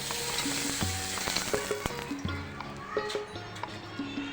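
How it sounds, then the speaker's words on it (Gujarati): Hot oil sizzles and crackles steadily as thin papad fries, with scattered sharp pops and faint kitchen clatter throughout. "તેલ ગરમ થઈ ગયું છે આપણે પાપડ તળી લઈએ"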